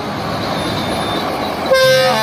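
A museum train at the Mora la Nova railway museum in Spain rumbles along steadily, then a loud sustained horn toot sounds close by near the end.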